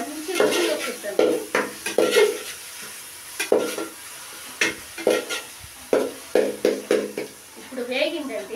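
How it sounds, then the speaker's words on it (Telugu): A spoon scrapes and knocks against a pan in repeated stirring strokes while masala fries on a low flame. The clanks come in irregular bursts over a soft, steady sizzle, with a voice talking in between. "నిదానంగా కొద్ది మంటలోనే వేపుకోవాలండి, అడుగు మాడకుండా కూడా చూసుకోవాలండి"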